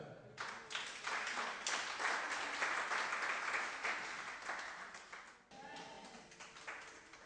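Church congregation applauding during worship, a sustained wash of many hands clapping with some voices and cheers mixed in, steady for several seconds and thinning toward the end.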